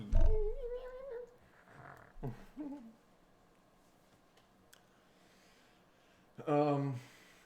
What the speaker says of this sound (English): This black cat's name is Black Cat.